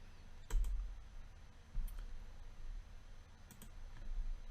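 Mouse clicks while choosing a custom CMYK option in print settings, three crisp, quiet clicks spaced out over a faint room hiss.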